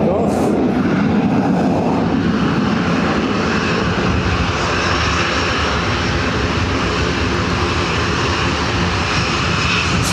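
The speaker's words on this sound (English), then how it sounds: "ATR is coming next. Should take off." An ATR turboprop airliner taking off at Dublin Airport produces a loud, continuous engine and propeller roar with a steady droning tone, sustained and close throughout with little change in level.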